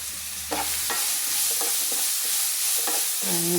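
Crushed broad beans (amara) stirred in hot oil with red chillies, mustard seeds and curry leaves hiss in a continuous loud sizzle, broken by several scraping stirs of the pan.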